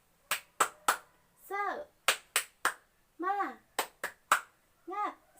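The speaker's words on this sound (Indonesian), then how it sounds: "Tepuk semangat." A primary school class performs a rhythmic spirit-clap chant in a classroom, with groups of sharp unison claps alternating with children's short shouted chant phrases in a repeating pattern.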